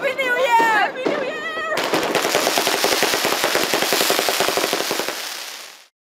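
Rapid, dense crackling bursts of New Year fireworks rattle off continuously and loudly, like a long string of firecrackers, after brief cheering voices, then fade and stop abruptly.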